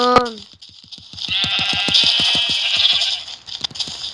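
A Minecraft sheep's bleat, drawn out and wavering with a pulsing, nasal quality, loud and close, preceded by a short higher note.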